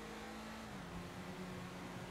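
An Ubermacht Rhinehart car in GTA 5 Online accelerates with a steady, broadband engine drone, a low hum slowly climbing in pitch over two seconds, faint and continuous with no pauses.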